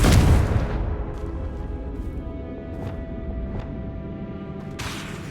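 A Confringo blast spell explodes in Hogwarts Legacy with a loud, deep boom that decays into a rumbling tail, followed by faint scattered debris ticks and a brief burst near the end.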